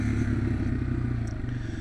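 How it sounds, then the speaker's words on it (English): A Yamaha TW200 motorcycle engine burbles steadily at low revs while engine braking downhill, a rough, pulsing rumble that stays close and fairly loud without any voices. "Engine braking my way down."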